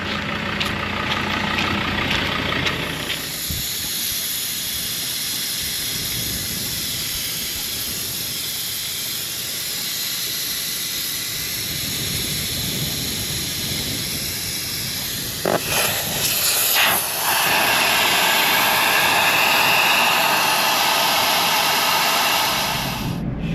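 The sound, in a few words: air hissing out as car tyres are let down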